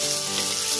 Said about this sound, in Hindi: अब इन सारे वेजिटेबल्स को अच्छी तरह से मिक्स कर लेंगे